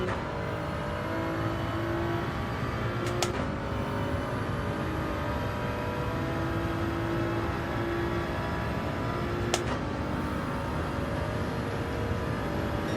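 A race car engine in Gran Turismo 7 drones steadily at high revs for the whole stretch, its pitch wavering slightly, with a couple of brief clicks and no talk.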